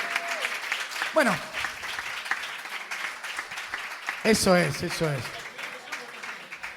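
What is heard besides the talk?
audience applause after poetry reading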